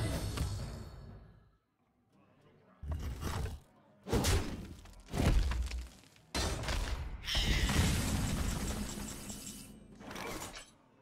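Hearthstone Tavern Brawl game effects as a minion is destroyed: a series of loud bursts with shattering, crashing and clanking textures, separated by short gaps, ending in a long bright crash and a final hit.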